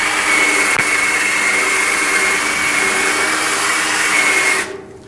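A Duragold sanding disc of about 150 grit scuffs bare metal on a GTO restomod during primer prep: a loud, steady, close abrasive whir with a faint high whine that holds for several seconds, then cuts off abruptly.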